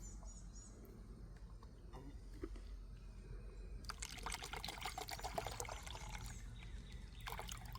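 Water poured into a mixing bowl while preparing a mix for faux rustic barnwood; a faint, steady trickle and splash with no talking, growing slightly busier toward the end.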